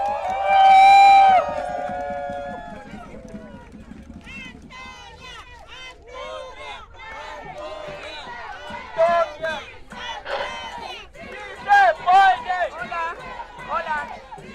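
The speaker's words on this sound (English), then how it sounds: "Please give a round of applause for Antonia." A crowd at an outdoor May Day workers' rights rally cheers, with a loud whoop at the start followed by scattered shouts, whistles and excited voices that rise and fall.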